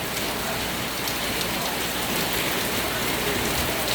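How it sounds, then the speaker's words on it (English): Heavy rain pours steadily at Boracay at night, a dense, continuous hiss of downpour drumming on surfaces, close and unbroken throughout, with no voices. "You see, it's raining a lot."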